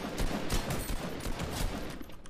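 Rapid sustained gunfire barrage in the video game Fortnite, a dense, loud stream of overlapping shots with no gaps for over two seconds, up close and alone without speech.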